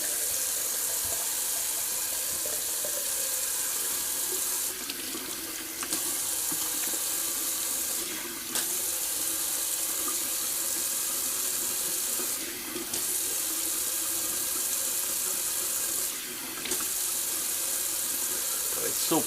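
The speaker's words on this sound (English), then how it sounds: "And I'll do a nice cold water rinse" Water from a tap pours steadily into a sink, a constant hiss broken by a few brief dips in the flow.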